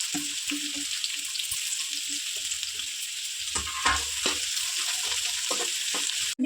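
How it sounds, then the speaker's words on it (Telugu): Onions frying in a mix of oil and ghee for biryani, a steady bright sizzle throughout with occasional louder crackles and stirring clatter near the end, no talking. "నేను కొంచెం నూనె కొంచెం నెయ్యి రెండు కలిపి వేసేసుకుంటున్నాను ఇవ్వండి నేను ఉల్లిపాయలు వేసేసుకున్నాను"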